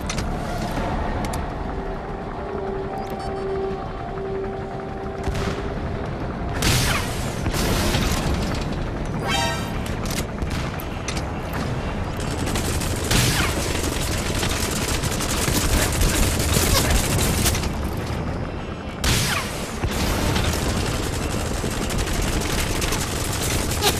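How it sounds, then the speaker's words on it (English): An enemy gunship in Metal Gear Solid V opens fire in a dense barrage of rapid gunfire and booming explosions, loud and continuous with rotor and engine noise. "That's an enemy gunship."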